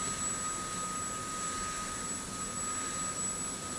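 A CH-47F Chinook helicopter's auxiliary power unit runs in the DCS flight simulator game, a steady unbroken whine and roar with a constant high tone and no talking.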